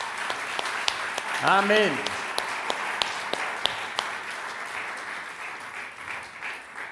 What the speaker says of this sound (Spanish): acompañarían dando otro aplauso de alabanza al nombre de Jesús?